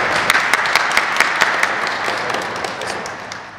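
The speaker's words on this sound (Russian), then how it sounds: "Похлопаем," Applause from a group of people in a karate training hall, congratulating a student on his promotion; steady clapping with sharp individual claps standing out, fading slightly toward the end.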